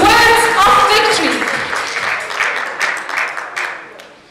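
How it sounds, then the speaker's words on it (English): Audience applause for a teen award winner at the Glocal Teen Hero 2017 event, a burst of clapping that starts loud and slowly thins out, with a faint voice briefly audible near the start. "Let us all welcome him with a huge round of applause"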